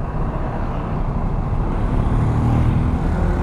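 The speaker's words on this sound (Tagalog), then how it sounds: "Meron 2 dump truck." Road traffic with dump trucks passing on a road near Legazpi, Albay, a steady loud rumble of engines and tires that builds slightly toward the end, no talking.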